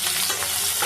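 Mixed shukto vegetables frying together in a pan give off a loud, dense sizzle that holds steady through a very short stretch, with no talking.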